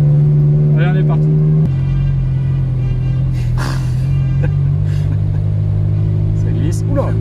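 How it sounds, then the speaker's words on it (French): Cars on a race circuit during a parade lap, a loud steady engine drone from inside a car with shifting pitch and occasional revs, with people talking over it. "donc là on est toutes les voitures sur le circuit, on roule tranquille"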